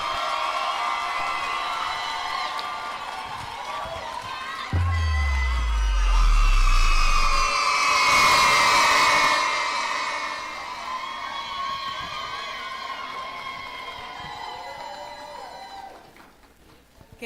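A crowd at the Southern College evening ceremony cheers and whoops for the graduating 2025 business class. The cheering is loud, broad and sustained, swelling in the middle with a deep low rumble, then fading out.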